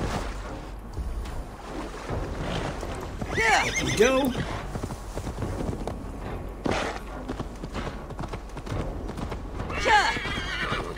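Assassin's Creed Valhalla horse gives two clear whinnies amid steady clip-clop hoofbeats, mid-distance and fairly loud, with a person speaking over parts of the game sound.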